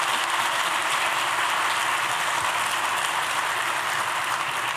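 A large audience at a governor's State of the State address at the University at Albany applauds loudly and continuously, a dense, even roar of clapping that fills the whole stretch without speech.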